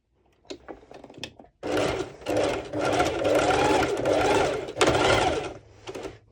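A sewing machine runs a straight stitch on an underwire top, starting after a few soft clicks of fabric handling and then whirring in steady, pulsing bursts up close with brief pauses between runs.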